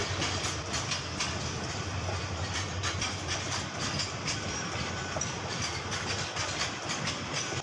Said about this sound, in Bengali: এটা হচ্ছে মালবাহী ট্রেন